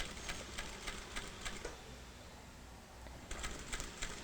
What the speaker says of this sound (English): Holding that in place with my right hand, and continue sewing.